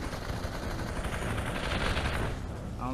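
Gunfire in the VR shooter Population: One, rapid continuous rattling shots at moderate loudness over a dense, noisy game mix.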